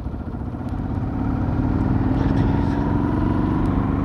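Vintage Honda-style XL motorbike being ridden on a dirt trail, its engine droning steadily and loud throughout, building slightly after the first second.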